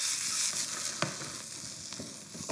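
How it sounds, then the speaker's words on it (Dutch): Potato pieces fry until crispy in a pan, a steady close sizzle with a few sharper crackles and stirring clicks, no voices. "En die aardappeltjes ga ik echt krokant"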